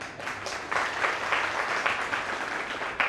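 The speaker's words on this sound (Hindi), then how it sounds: "गुमास्ता नगर के लोग ताली बजाने को तो हर दम तैयार रहते हैं" Audience applause at a religious discourse gathering, a steady wash of many hands clapping at moderate distance, continuous for a few seconds with no voices over it.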